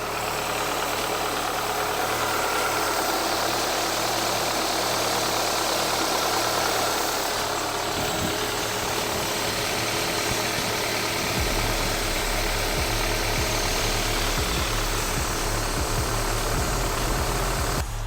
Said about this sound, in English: The car's running now, it's sounding perfect.